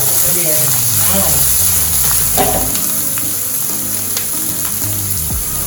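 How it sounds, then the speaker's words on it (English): Cornmeal fries in a pan with a steady, close sizzle and crackle that runs unbroken throughout, with faint musical tones underneath. "Cornmeal cooking."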